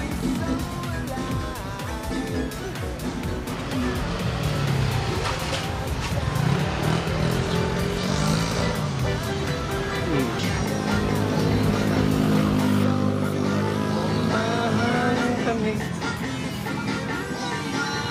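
Yamaha Aerox V2 scooter engine on test, revving and droning with rising and falling pitch, close and loud over a steady roar, with faint voices in the background.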